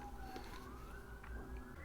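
Police car sirens wail faintly in the distance, a thin steady rising tone over low background rumble.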